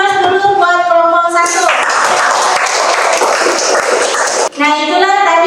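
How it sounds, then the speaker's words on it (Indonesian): Applause for a presenting group in a classroom teaching-performance session: a dense burst of clapping from a room full of people lasting a few seconds, with a voice speaking just before and right after. "Aplaus dulu buat kelompok"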